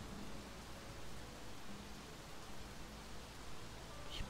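Rain in the video game XING: The Land Beyond, in the Nahele area: a faint, steady, even hiss of falling rain with no clear individual drops, heard alone.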